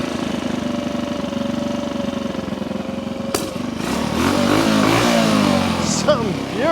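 A 1960s Honda 90 motorcycle engine idling steadily with a fast, even putter, then revving up and down in rising and falling pulls; loud and close throughout.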